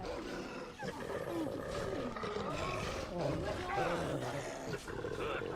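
Loud growling and roaring from wild creatures, wolves among them, in the fantasy video game Dragon Age: Origins, rumbling continuously and close, with speech mixed in throughout.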